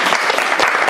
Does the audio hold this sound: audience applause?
yes